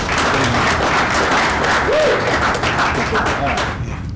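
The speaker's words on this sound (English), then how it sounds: "Let's give them a round of applause." An audience at a motion graphics community event in a basement venue applauds steadily, a dense, loud wash of clapping that begins to fade at the end.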